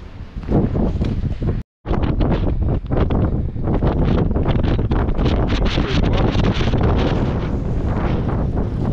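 Strong wind buffets the microphone on a mountain in the Alps near La Rosière, in a loud, continuous roar with gusty rumbling throughout and only a momentary break.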